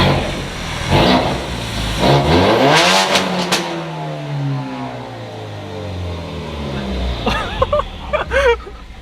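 Car engine revving hard through an aftermarket exhaust, rising and falling roars with sharp pops and crackles near the end, loud and close, people talking nearby.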